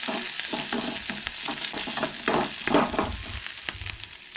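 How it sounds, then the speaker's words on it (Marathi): Onion, garlic and chili sautéing in a pan for a Goan egg curry, a close, dense frying sizzle with rhythmic scrapes and taps of a spoon stirring throughout, no voices. "कांदो, लसूण, मिरसांग आनी बरें परतून घेवंक जाय."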